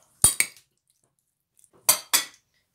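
Metal utensils clink and scrape against a bowl while homemade shawarma filling is mixed, in two short, close bursts separated by a long pause of silence.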